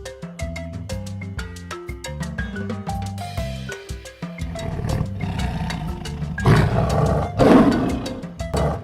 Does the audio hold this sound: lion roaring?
yes